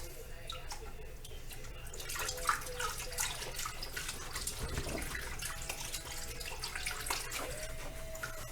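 Faint water sloshing and splashing as a carburetor is dunked and swished around in a container of water to rinse off vinegar, soft irregular splashes and trickles at close range.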